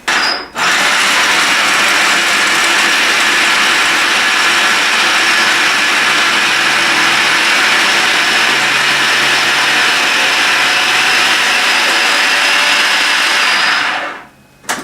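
A food processor runs continuously on carrot cake dough, a loud steady whirring motor grind that holds for about fourteen seconds before cutting off, with no talk over it.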